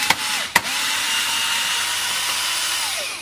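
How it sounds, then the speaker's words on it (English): A power screwdriver whirs continuously while removing screws from the back panel of a Kenwood KRF-V5560D home theatre amplifier, preceded by two sharp clicks and heard loud and close. "let's get all these screws out"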